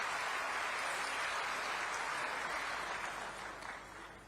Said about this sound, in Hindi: मैं चाहूं कि जोरदार ताली के गड़गड़ाहट से स्वागत करो